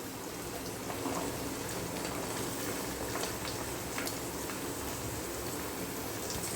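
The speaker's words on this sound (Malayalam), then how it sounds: "നമുക്ക് ഇതിനകത്തോട്ട് നമ്മൾ ഉള്ളി ഇട്ട് കൊടുക്കാം" Onions frying in a pan for chicken egg fried rice, a steady close hiss and bubbling sizzle with no break.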